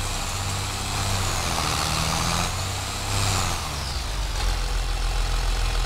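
A tractor engine in Farming Simulator 22 rumbles steadily with a low, continuous drone throughout, its pitch rising and falling slightly as the game tractor works on a village map during wheat harvesting.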